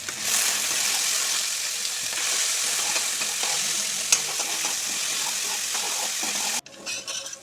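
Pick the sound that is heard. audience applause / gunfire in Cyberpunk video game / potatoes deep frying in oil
potatoes deep frying in oil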